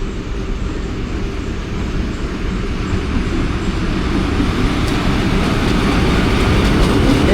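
A Thunder Storm passenger train led by an HBU 20 locomotive runs through Sher Shah Junction station on the main line, a loud, steady rumble of wheels and carriages that swells slightly as it passes close by.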